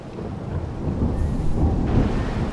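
A thunderstorm in the survival game Smalland: Survive the Wilds brings a broad, continuous rumble of thunder over steady rain, building slightly and staying loud throughout with no talking.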